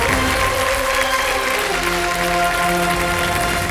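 A studio audience on a televised quiz show claps steadily and loudly, with sustained background music under the applause.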